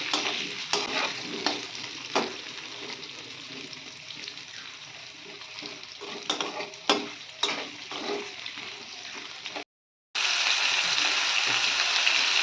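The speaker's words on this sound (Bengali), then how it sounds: "তো আলুগুলো একটু ভেজে নেব" Potatoes fry in a pan alongside pumpkin pieces with a little turmeric, giving a steady close sizzle with scraping stirs and clinks. The sizzle cuts out for a moment near the end, then returns louder and brighter.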